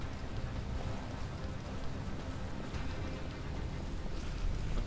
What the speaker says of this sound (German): Und wieso regnet es verdammt nochmal?